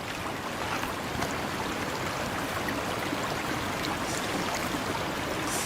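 Continuous water sloshing and splashing at night, as if someone swims through a pool or sea, a steady moderate wash of sound with no talking.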